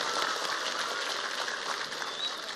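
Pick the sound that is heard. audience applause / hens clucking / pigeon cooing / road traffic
audience applause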